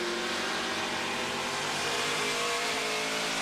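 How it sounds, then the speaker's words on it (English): A NASCAR Craftsman Truck Series race truck at Milwaukee Mile Speedway roars under steady throttle, a loud, continuous, close engine drone with no pauses. "Listen to that throttle, Mike."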